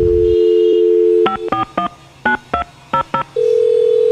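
A steady dial tone, then a quick series of distinct keypad beeps at an uneven rhythm, followed by the tone returning, loud and clear.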